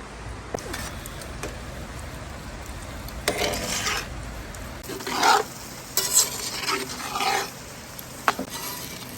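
Chili with chili powder and cumin cooks in a pot over an outdoor campfire, a faint low simmer broken by several scraping stirs and spoon clinks against the pot.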